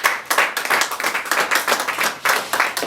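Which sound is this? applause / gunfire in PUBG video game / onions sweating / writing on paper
applause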